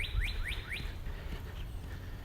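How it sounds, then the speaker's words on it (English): Birds sing in a park in spring: a few quick, bright rising chirps in a short series, then a softer call, over a constant outdoor background hum. "I hope you can hear the birds singing."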